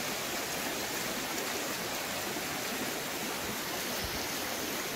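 A river in a natural setting runs as a steady, dense rush of flowing water with no pauses, close and fairly loud, with no voices over it.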